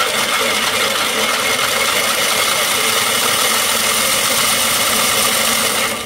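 A 3D printed planetary gearbox spins at high speed, giving a steady, loud broadband whir with a mechanical rattle that holds evenly for about six seconds before cutting off at the end.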